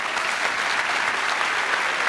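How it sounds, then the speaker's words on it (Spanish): Dense, steady applause from a studio audience on a Colombian comedy talk show, clapping evenly throughout with no break and no voices on top. "Un aplauso para el doctor"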